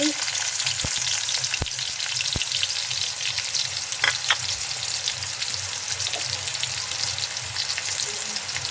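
Onions frying in oil in a pan for a hilsa fish curry with black cumin, a loud, continuous close-up sizzle and crackle with a few sharp utensil taps early on, with no speech.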